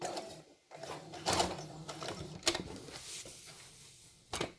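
Sewing machine stitching a square of fabric, a quiet mechanical whirring and clatter that starts, pauses briefly, then runs on with a few sharper clicks near the end.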